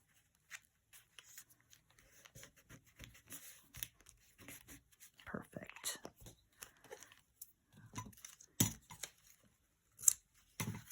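Scissors snipping paper to trim a small matchbook glue book collage, scattered short crisp cuts and rustles at close range, interspersed with quiet speech.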